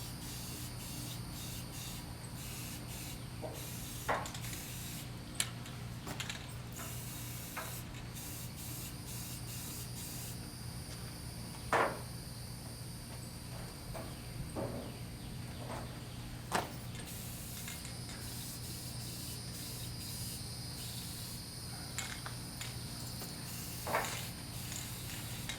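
A nearly empty can of red spray paint hisses in short and longer bursts with small gaps between them, quiet and close, over a steady low background hum.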